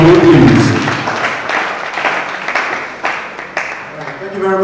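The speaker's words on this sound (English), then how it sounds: "A round of applause for him, please." An audience applauds at a distinguished Don Bosco gathering, a dense, sustained wash of clapping that fades slightly, with a voice heard briefly at the start and end.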